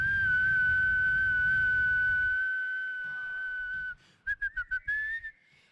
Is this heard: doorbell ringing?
no